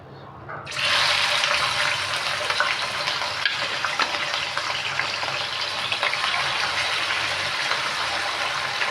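Prawns hit hot oil with a sudden loud sizzle that stays steady and dense throughout, close up with small crackles and no voices.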